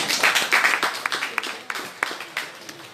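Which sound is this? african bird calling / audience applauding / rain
audience applauding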